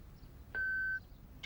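Answering machine beep after the recorded greeting at the Callow residence, a single clean electronic tone lasting about half a second, clear against a quiet background.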